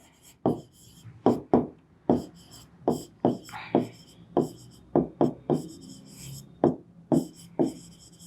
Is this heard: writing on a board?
yes